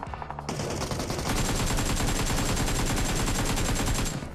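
Rapid automatic gunfire in the battle-royale game PUBG Mobile, a loud, close, continuous burst of fast repeating shots rattling on for several seconds after a short lead-in, with no talking.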